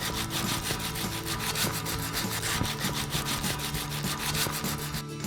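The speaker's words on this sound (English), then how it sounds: "For stubborn areas, use sandpaper to smooth the surface." Sandpaper worked by hand over a metal gate, a steady rhythmic scraping with regular back-and-forth strokes, close and continuous with no talking.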